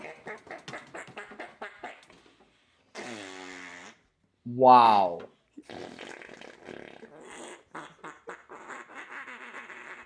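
A long, drawn-out fart sound effect stretches and wobbles in pitch, loud and close, set between stretches of people talking.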